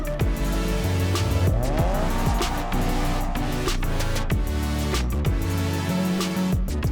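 An Alfa car brakes hard after a 0 to 100 km/h launch run, its tires squealing loudly over the engine and road noise, with repeated short screeches and clunks throughout.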